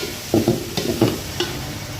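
Turmeric powder is stirred into food frying in a pan, with a few quick close scraping strokes over a low sizzle.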